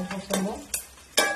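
Curry leaves spluttering in hot oil, frying for a fish pickle, with a few sharp crackling bursts that come and go over a softer sizzle.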